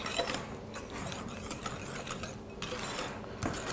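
A whisk beating melted butter into cupcake batter in a bowl, giving a steady, fast, rhythmic clatter that runs continuously at close range with no voice over it.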